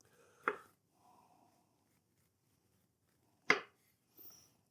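A knife cutting the skin off a smoked pineapple makes two sharp, isolated slicing crunches a few seconds apart, close and clear, with faint rasping in between and a softer scrape at the end.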